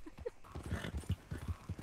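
Horse hooves clip-clopping in Red Dead Redemption 2, a quick run of soft, close thuds at an uneven trotting rhythm, fairly quiet and brief.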